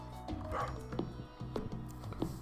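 A dog in the Stardew Valley farming video game gives three or four short, soft barks at steady intervals, fairly quiet, over a low humming game background.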